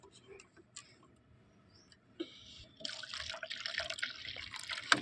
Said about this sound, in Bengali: এই জলটা দেব আমি এখন গাছে